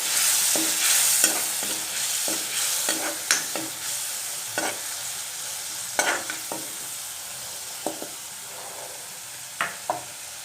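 Spice paste sizzling in oil with a splash of water, stirred in a pan while a bottle gourd dish is made; soft steady frying under a string of sharp spatula scrapes and knocks, close up, no voices.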